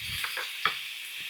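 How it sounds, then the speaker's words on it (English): Meat browns in a hot pan for taco night, giving a steady close sizzle and hiss broken by a few soft scraping stirs. "So all I'm going to do is brown this."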